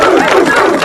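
A stadium crowd cheers a sprint race with a dense, loud roar that fills the whole brief moment.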